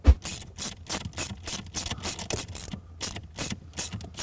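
Ratchet wrench tightening a nut on a car battery terminal in a Mercedes E-Class Cabriolet, a steady run of rapid clicking strokes, close and clear with no talk.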